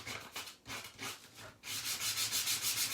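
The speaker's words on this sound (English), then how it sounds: "So just taking some sandpaper. And definitely want to rough up the corners" Sandpaper roughing up the corners and edges of a wooden board, heard as close, rhythmic scratchy rubbing strokes, a few slower passes followed by a quicker steady run of back-and-forth strokes.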